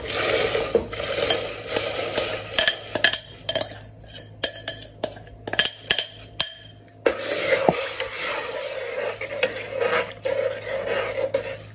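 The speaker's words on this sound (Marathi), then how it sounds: "पाणी तापल्यानंतर भिजवलेले शाबू घालून द्या।" Soaked sago pearls tipped into hot water and stirred in a metal pot, with a run of scraping strokes and bright clinks of a spoon against the vessel and a short pause midway.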